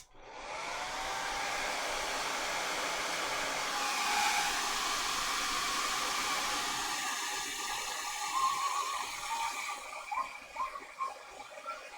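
A hair dryer blows steadily on a freshly painted tabletop miniature, a loud continuous whoosh that starts abruptly and holds for several seconds before wavering slightly near the end.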